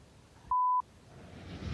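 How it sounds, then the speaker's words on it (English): A mobile phone notification sounds once, a single clean electronic beep lasting about a third of a second, loud and close against a quiet background. "My phone's going off."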